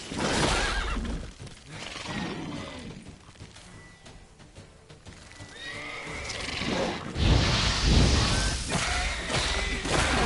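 A horse whinnies over busy game sounds in The Witcher 3: Wild Hunt, with hoof clatter and a few thuds; the neighing rises loud near the end.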